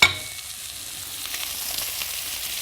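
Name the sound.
clams frying in butter in a pan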